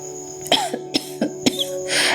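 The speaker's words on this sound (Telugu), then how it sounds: "దగ్గు" A person coughs in a short series of sharp, close bursts, about five or six harsh coughs spaced unevenly over two seconds, with a breathy exhale at the end and no talking.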